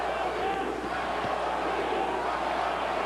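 A boxing arena crowd at the Kovalev vs Ward fight gives off a steady roar of cheering and murmur. It sounds broad and sustained, with a commentator's voice speaking over it.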